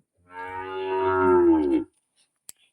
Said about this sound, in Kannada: ಯೋಗಿತಕ್ಕನ ದನ ಎಲ್ಲ ಉಂಟು